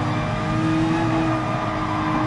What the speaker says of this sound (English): listen to his engine notes, he's revving the car a lot